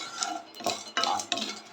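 Broken marathi moggu spice dry-roasting in a pan while a spoon stirs it, giving four or five distinct scraping, rattling strokes against the metal with a faint background hiss and no voices.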